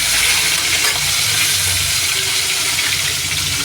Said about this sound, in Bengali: এই যে তেলটা তেতে গেছে, পাতলা করেই করবো, এই কালো জিরে ফোড়ন দিয়ে